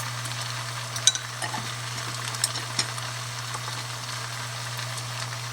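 Salted beef stew being stirred in a pot, with a few soft scraping knocks of the spoon over a steady low hum and faint background sizzle, close and fairly quiet.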